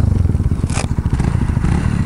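A Honda MSX 125 small motorcycle engine idles and chugs up close in a fast, loud, pulsing rhythm, with a brief scraping clatter partway through.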